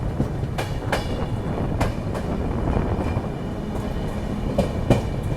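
Humsafar Express passenger train gathering speed after a signal stop near Kanpur, heard from on board: a steady rumble with repeated rail-joint clicks and thuds spaced through the run, fairly loud and continuous.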